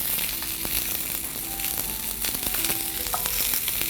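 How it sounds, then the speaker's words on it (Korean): Onion and zucchini fry in a pan with a dense, steady sizzle up close, broken by light stirring scrapes, with no voices. "양파를 넣고 바로 호박을 넣으시면 되겠습니다."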